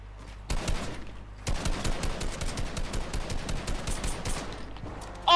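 Rapid bursts of video game gunfire crackle through a shooter match, dense overlapping shots and automatic rattles after a brief pause, loud and close for most of the stretch.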